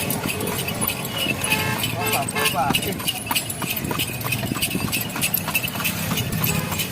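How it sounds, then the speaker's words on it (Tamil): Hooves of a horse pulling an old horse cart in Palani clip-clop in a steady, close rhythm, with chatter and road noise around them throughout. "நம்ம இப்போ குதிரை வண்டியில் போயிடுக்கிறோம்"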